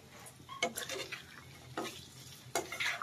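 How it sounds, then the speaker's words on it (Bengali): Jackfruit seeds and dried chepa shutki fish stir-fried in a pan, with a few scraping stirs of a utensil against the metal over a faint sizzle, quiet and close. "এখন একটু নেড়ে চেড়ে ভেজে নিব।"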